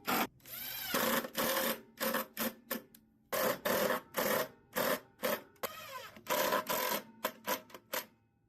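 Close up, a power driver runs in short repeated bursts as 1.25-inch number 8 screws fasten caster wheels to a wooden saddle rack. Each whirring spurt stops abruptly, with a few brief pauses between screws and no talking.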